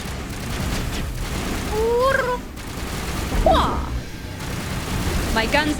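Scattered gunfire and impacts from a Mass Effect 1 Legendary Edition firefight sit beneath ongoing game noise, with a few whistling electronic effects and someone talking over the action.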